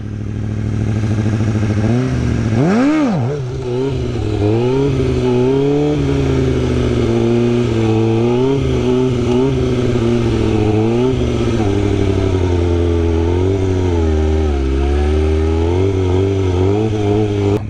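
A motorcycle engine runs at a raised idle and revs up and down continuously during slow wheelie practice, with a loud, close, steady drone, one sharp throttle blip early on and wavering pitch throughout.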